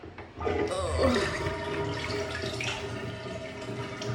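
Tap water runs steadily into a sink while spaghetti is being made at home, a continuous splashing rush that lasts throughout, with faint speech in the background.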